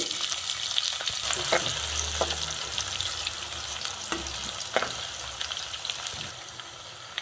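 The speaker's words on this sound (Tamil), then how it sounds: "வெங்காயம் நல்லா வதங்கிடுச்சு" Thinly sliced onions and green chili sizzle steadily in a hot pan for kuska, a constant bright frying hiss with occasional soft scrapes of stirring, no voices.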